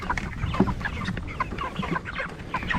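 Thirsty chickens cluck and squawk in a chicken tractor as water arrives, a busy, overlapping flock chatter with sharp individual calls, close and steady throughout.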